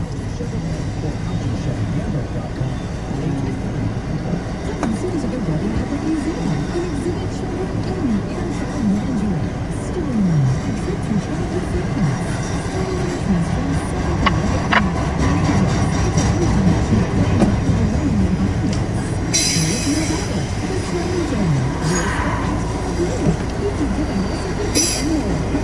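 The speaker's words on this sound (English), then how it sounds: "It's some sort of train." A westbound freight train passes close by, its heavy rolling rumble and clattering cars sustained throughout, with wavering wheel squeals rising over the steady roar.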